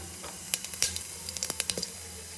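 Mustard seeds and cumin crackle in a spoonful of hot oil for a rasam tempering, giving sharp, scattered pops and spits over a soft sizzle, close by.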